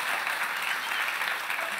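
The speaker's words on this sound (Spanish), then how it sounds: "el aplauso para Karina, por favor." A comedy show audience in Monterrey breaks into steady, dense applause, a brief continuous wash of clapping heard from within the crowd.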